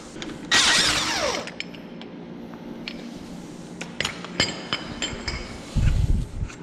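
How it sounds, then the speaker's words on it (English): Drum puller being taken off a Packard rear brake drum, with clanking metal tool knocks, a ratcheting burst near the start and scattered sharp clinks and thuds close by, no talking. "So we'll go ahead and get the drum puller off now"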